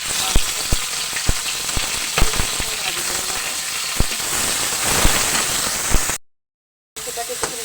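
Mixed meat frying in mustard oil crackles in a loud, continuous sizzle dotted with sharp pops and spatters, running steadily before a short gap.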